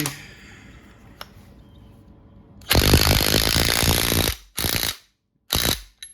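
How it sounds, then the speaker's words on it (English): A power drill driving a stud back into a tractor's 4x4 hub whirs loudly in several bursts, one long run then two short ones, close by after a quiet stretch with a faint click. "drill it back in"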